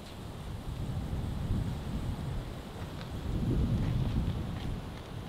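Wind gusting outdoors beside an old blacksmith shop, a low rumbling buffet on the microphone that swells and eases, strongest near the end, steady and fairly faint with no voices.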